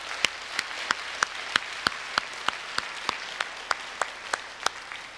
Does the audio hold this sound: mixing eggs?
no